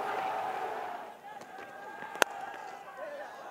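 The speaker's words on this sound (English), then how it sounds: "Bangladesh, they've got a raucous crowd cheering them on." A raucous crowd at a Bangladesh versus Afghanistan one-day cricket match in Sharjah roars and cheers continuously in the distance, with one sharp knock cutting through midway.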